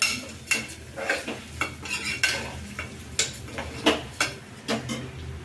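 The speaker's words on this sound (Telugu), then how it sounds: "కొంచెం పెసరపప్పు వేసినాం కదా ఇది ఫ్రై ఉంది" Moong dal frying with leafy greens in a pan, a spatula scraping and clinking against the metal in an uneven run of close, crisp strokes over a faint background hiss, with no talking.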